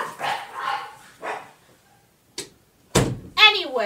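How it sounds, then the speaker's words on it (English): Dogs barking indoors in a few sharp, separate bursts spread across a few seconds, with brief pauses and a higher yelping bark at the end. "sorry about the dogs"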